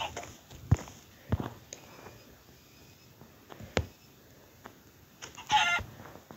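In a farming, crafting and building video game, a barnyard chicken clucks in scattered short bursts over quiet ambience, with soft footstep-like taps and a louder flurry near the end.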